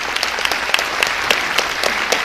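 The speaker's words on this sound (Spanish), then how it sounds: "Dese un aplauso porque están haciendo algo" A comedy show audience in Peru claps loudly and steadily, a dense continuous patter of hands with no voices over it.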